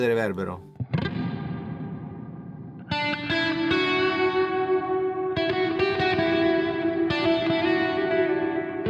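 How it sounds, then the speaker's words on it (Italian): Electric guitar played through a reverb preset on a Two Notes Torpedo Captor X, with a few struck chords ringing out with long, washy sustained tails, loud and close. "Sentite che bella la qualità del reverbero."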